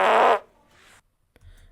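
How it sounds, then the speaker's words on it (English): A loud, heavy fart bursts out for about a third of a second, then fades into faint rustling and a small click, with a short low rumble near the end. "the first fart up"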